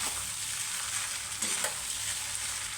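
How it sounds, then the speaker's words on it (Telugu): Lemon rice is stirred in a pan, with a steady low hiss beneath and a couple of brief scraping touches midway. No voices. "ఇప్పుడు కలుపుకోవాలండి"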